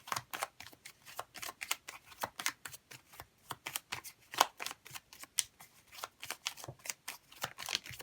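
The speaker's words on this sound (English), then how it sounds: "I'm going to grab a few cards here" Tarot cards handled close up, with a quick run of light flicks, slides and taps as they are shuffled and drawn, steady and soft without talk.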